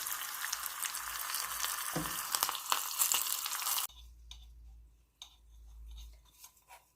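Curry leaves sizzle loudly in hot oil as a tempering for dahi raita, a dense crackling fry that cuts off abruptly and gives way to quieter stirring and clinking.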